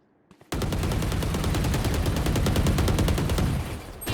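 Rapid automatic gunfire in a shooter video game while the character runs sideways, a dense continuous burst of fast, evenly spaced shots lasting about three seconds, loud and close.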